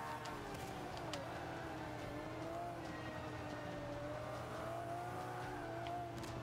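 A Pagani Zonda C race car in Forza 5, engine note rising and falling through gear changes and cornering with faint tire squeal, steady and fairly quiet with no talk.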